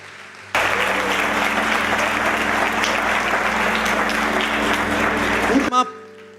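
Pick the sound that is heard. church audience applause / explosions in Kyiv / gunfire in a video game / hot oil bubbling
church audience applause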